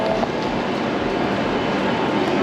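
Train rushing past on the tracks at a Tokyo station platform, a Shinkansen bullet train heading for Osaka, giving a loud, steady broadband roar that holds without a break from start to finish.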